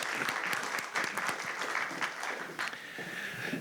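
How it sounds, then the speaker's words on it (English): Steady applause from a seated audience honoring award winners at a city council meeting, dense clapping sustained throughout at moderate distance with no talk over it. "Yeah, go ahead, give them a round of applause."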